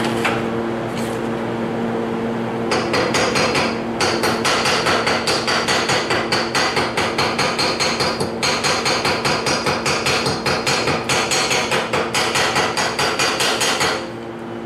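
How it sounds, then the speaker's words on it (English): A hammer chips slag off a fresh weld on a steel mailbox, a rapid string of sharp metallic taps in quick bursts at close range, with a steady mechanical hum underneath. "Go ahead and bust the slag off here."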